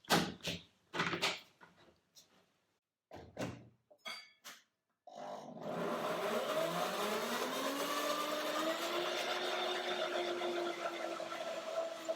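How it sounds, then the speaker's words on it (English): A high-speed blender whirs steadily as it purees a lemony fruit dressing, a loud continuous motor roar that rises in pitch, following a few sharp knocks and clatters as the machine is set up. "And you're lucky and have one of these high-speed blenders."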